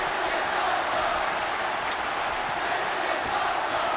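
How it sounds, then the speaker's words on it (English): A Houston wrestling crowd at an SWF match roars steadily with cheering and applause, a dense, continuous wash of noise that holds at an even level for the whole stretch. "the Houston crowd letting them know they appreciate this match"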